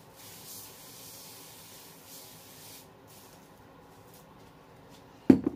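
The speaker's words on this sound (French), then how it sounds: "J'ai jamais utilisé le spray repositionnable." Repositionable adhesive spray hisses softly from an aerosol can in a low, continuous spray, ending with a short louder knock.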